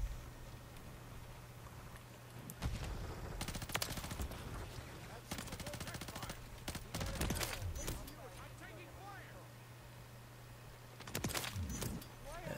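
Bursts of rapid BP50 rifle fire in Modern Warfare 3 gameplay, several loud volleys spread across the stretch with quieter stretches of game ambience and a steady low hum between them.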